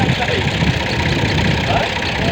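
A tractor engine runs steadily in a Punjab village, a constant loud rumbling drone with no break, with voices faintly mixed in underneath.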